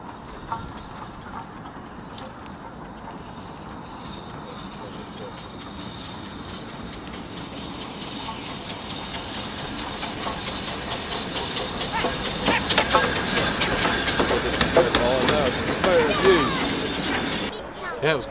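A train passes on a railway line, a steady rising rush of hiss and rumble that swells over the clip with rhythmic clatter, while people talk nearby.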